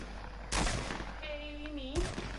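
Gunfire from Fortnite shooting down a wooden build in the sky: two loud, broad bursts of shots about a second and a half apart, with a faint rising whistle-like game tone between them.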